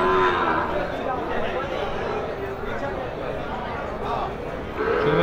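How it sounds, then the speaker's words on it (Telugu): Cows moo at the Krosuru cattle market, low drawn-out calls near the start and end of the clip, set against a steady bed of crowd chatter and market noise. "ఇవన్నీ ఆవులు."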